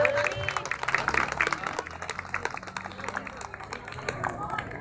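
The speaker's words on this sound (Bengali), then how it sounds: "হাততালি হবে, হাততালি হবে একটু জোরে।" Audience applause rattles through a club award ceremony as a memento is handed over, dense steady clapping with a crowd murmur and voices mixed in.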